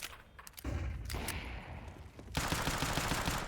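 Gunfire rings out in a Counter-Strike match, with sharp shots in rapid bursts and a dense, loud rattle of continuous fire near the end.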